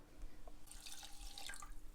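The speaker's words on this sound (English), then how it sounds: "the lovely flavored pandan leaves go in and the water" Water poured into a cooking pot with pandan leaves, a short splashing, trickling pour that is quiet and alone.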